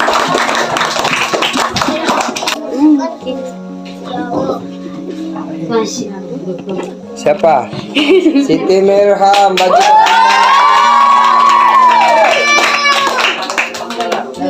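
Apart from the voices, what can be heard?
applause from students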